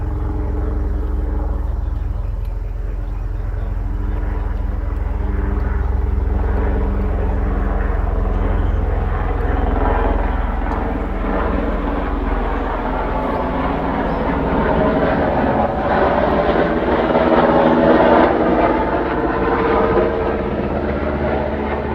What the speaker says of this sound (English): Military. Black chopper.